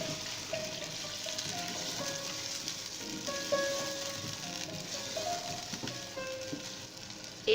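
Green chilli paste and yogurt masala frying in a pan for Lahori chicken biryani, giving a steady, fairly soft sizzle with light crackles throughout and no talking.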